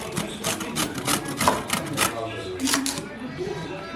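Potato and carrot grated by hand against a grater, giving quick repeated rasping strokes in an even rhythm, close and moderately loud, with someone talking over it.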